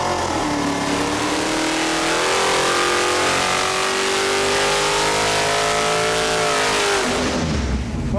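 A stroked big-block V8 engine climbs steadily under load on a dyno pull from 4,000 to 6,500 rpm, a loud, close, rising roar that holds for several seconds before backing off at the end.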